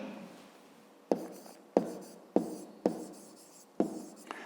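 Handwriting strokes on paper while writing out a math answer for a fifth-grade area problem, heard as about six short, close scratchy pen or chalk strokes at a steady pace, quiet and alone without talk.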